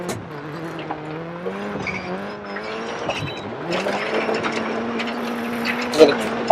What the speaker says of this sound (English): it can look the most spectacular if it's done well, and that is a power slide